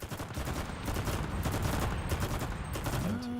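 A submachine gun in the video game Enlisted fires in rapid bursts, a dense crackling stream of shots that runs nearly continuously at moderate loudness.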